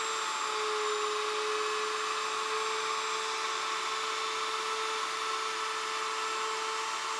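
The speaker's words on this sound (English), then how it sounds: "So I'm going to have to do this in two passes and I'm going to use a 1/2 inch spiral bit." A router fitted with a half-inch spiral bit cutting a mortise for a panel bed, a loud steady high-pitched whine held at a constant pitch throughout, close and alone with no talking.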